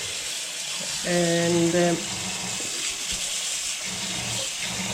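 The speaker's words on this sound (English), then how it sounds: "I will now rinse the nettles." Tap water runs steadily into a sink while nettles are rinsed, a constant close gush, with a short tonal hum near the start and a brief spoken word.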